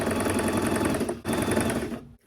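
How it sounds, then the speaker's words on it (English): A sewing machine stitches a neckline facing in two close, rapid bursts with a short pause between them, then stops. "Then you take it to the machine. I've pinned this side. Just sew the neck area."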